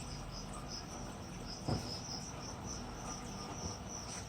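Crickets, fed as live prey to antlions in sand, chirp steadily in a dense, continuous high trill, fairly faint and even throughout, with no voices.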